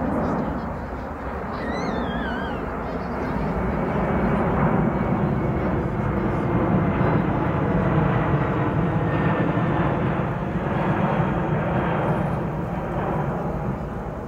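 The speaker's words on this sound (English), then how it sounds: "It's fabulous to be able to enjoy the spectacle of visiting C-17 here at Warbirds over Wanaka." A visiting C-17 military transport aircraft flies at the Warbirds Over Wanaka airshow, producing a loud, continuous jet roar that swells and holds throughout. A faint higher whine appears briefly near the start.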